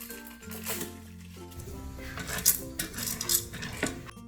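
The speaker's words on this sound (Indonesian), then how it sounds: "Masukkan beras yang sudah dicuci." Washed rice tipped into the metal inner pot of a Mitoshiba digital rice cooker, giving a close clatter and hiss of grains striking and scraping against the pan, with a few sharper knocks, and no voices.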